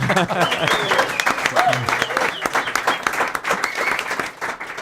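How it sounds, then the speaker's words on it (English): Live audience applauds at a podcast recording at Epicenter in Stockholm, Sweden, welcoming a guest; loud, full clapping from a crowd fills the room, with some voices mixed in underneath. "An applause, please."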